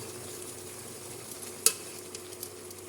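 Shrimp fry in Star margarine with a steady, continuous sizzle, broken once by a sharp clink of a utensil against the pan as it is stirred.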